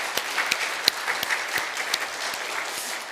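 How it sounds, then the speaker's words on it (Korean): A church congregation applauds a women's vocal ensemble after its performance during a Sunday worship service: steady, dense clapping from many hands with a few sharper claps standing out, lasting about three seconds. "다시 한번 우리 여성 중창단에게 우리"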